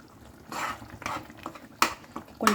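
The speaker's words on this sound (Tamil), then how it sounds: "இப்படி கிளறி விட்டுட்டோம்னா" A spoon scrapes and stirs egg in a pan in a home kitchen, a few soft irregular scraping strokes with light clinks of metal, quiet and close.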